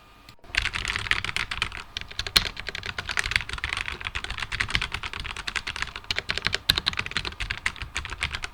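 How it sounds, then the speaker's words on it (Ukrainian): Rapid, steady clicking of a computer keyboard being typed on up close, continuous keystrokes with no voices. "а звучить ця клавіатура вот так от"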